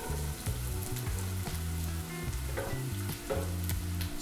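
Onions go into hot olive oil in a pan and sizzle and crackle continuously, with stirring, close up and with no talking.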